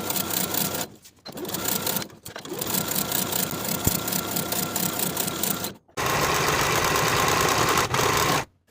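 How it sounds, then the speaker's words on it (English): A sewing machine stitches the inseam of a pair of pants in steady, loud runs of rapid mechanical chatter, broken by short pauses between seams. "Sew the inseam from top to bottom with a 1/2 inch seam allowance"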